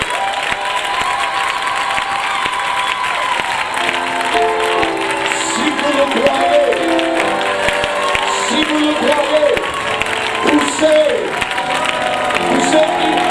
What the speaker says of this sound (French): Si vous le croyez, acclamez très fort au Seigneur Jésus-Christ.